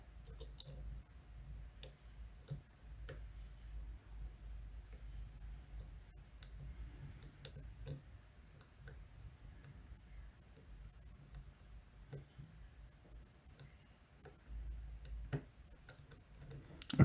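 Pins of a Medeco Original lock clicking under a pick, faint scattered ticks in an irregular rhythm over a quiet background.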